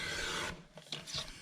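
Paper trimmed straight during a craft session, producing a short, close, dry rasping cut that breaks into a few brief scraping strokes.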